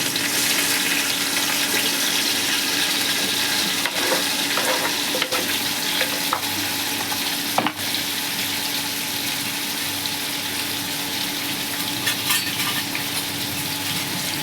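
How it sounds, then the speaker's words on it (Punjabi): Vegetables for Hakka noodles fry in hot oil with a steady, dense sizzle throughout, close and loud, broken by a few sharp clatters of stirring. "ਆਪਣਾ ਆਇਲ ਵੀ ਗਰਮ ਹੋ ਗਿਆ ਤੇ ਹੁਣ ਆਪਾਂ ਸਬਜ਼ੀਆਂ ਪਾਉਣੀਆਂ ਵਿੱਚ"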